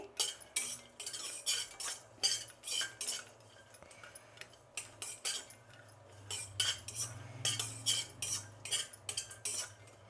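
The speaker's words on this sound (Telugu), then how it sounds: "ఇప్పుడు ఎండు కొబ్బరి కూడా వేయించుకుందాం." Dry coconut roasting in a pan while being stirred, with a metal spoon scraping and clinking against the pan in repeated bursts close to the listener. A low, steady hum sits underneath.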